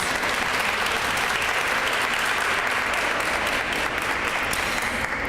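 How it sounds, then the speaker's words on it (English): A dense, continuous round of applause from an audience honoring speakers at the launch of the Age-Friendly Greater Pittsburgh Action Plan, loud and steady for the whole stretch. "Let's give them one more round of applause."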